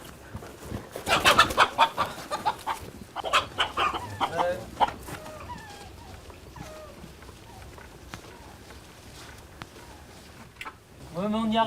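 A hen clucks and squawks in a burst of agitated calls, then keeps up scattered softer clucks, while people talk nearby and outdoor noise fills the gaps.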